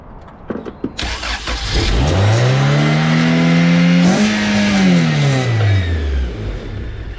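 A Honda CRX HF engine up close: a few clicks, then it catches and starts, revving up to a loud sustained roar before easing back down toward a steadier run.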